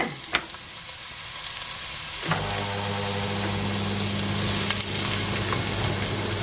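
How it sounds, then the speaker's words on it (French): Onions hit a hot pan and sizzle steadily, the frying starting softly and swelling into a loud, continuous hiss close by. "on va faire dorer les oignons."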